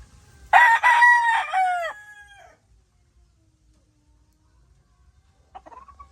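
A Kelso gamefowl rooster gives one loud, close crow lasting about two seconds, followed by quiet and then a faint brief cluck near the end.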